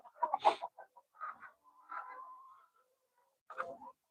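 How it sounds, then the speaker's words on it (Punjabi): Desi roosters and hens at a poultry farm make a series of clucking and squawking calls, close and fairly loud, with short pauses between bursts and a final call after a quiet gap. "ਦੇਖੋ ਮੁਰਗੇ"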